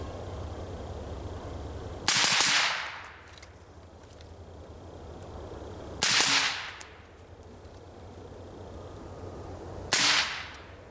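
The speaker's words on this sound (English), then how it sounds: "So let's run another mag, and let's do some rapid fire here." Three suppressed shots from an AR pistol fitted with a Sig suppressor, spaced roughly four seconds apart, each a sharp crack with a brief fading tail over quiet outdoor background.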